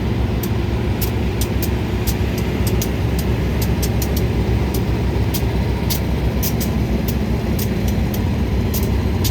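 GEA 4523 locomotive heading freight train 721 into Surat Thani station, a loud, steady rumble of engine and rolling stock with faint repeated clicks over the top.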